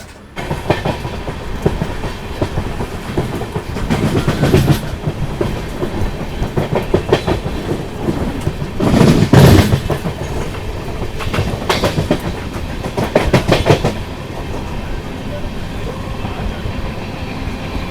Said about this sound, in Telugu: త్రివేంద్రం సెంట్రల్ న్యూఢిల్లీ కేరళ ఎక్స్ప్రెస్ అయితే వెళ్తుంది.